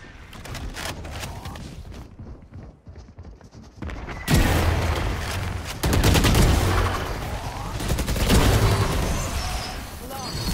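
Gunshots from the Valorant video game, with sparse shots followed by loud, dense bursts of gunfire. A player's voice talks over the shooting.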